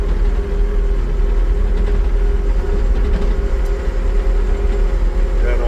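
A tractor engine idles after derating, a steady loud low rumble with a constant drone, unchanging for the whole stretch and heard alone.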